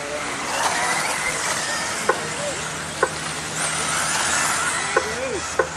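Modified 4WD RC cars race past on a track through a sweeping corner, producing a continuous high motor whine with occasional sharp ticks, while a commentator talks over them.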